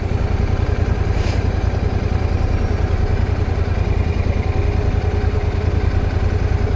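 A Royal Enfield Super Meteor 650 motorcycle rolls at walking pace in second gear, its twin-cylinder engine thrumming steadily with a low, even pulse, close and loud, over faint wind.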